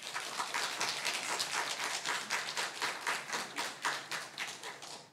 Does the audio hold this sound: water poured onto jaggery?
no